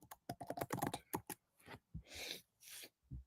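Close, quiet typing on a computer keyboard, a quick burst of keystrokes followed by a few slower, separate clacks and soft noisy strokes.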